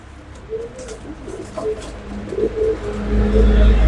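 Soft pigeon coos sound in short, repeated bursts over steady low outdoor rumble, with the background growing louder toward the end.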